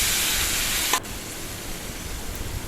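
Marinated mutton hitting hot oil with cumin and dried chili: a steady, loud hiss that drops to a softer, even sizzle after a brief clatter, with no talking.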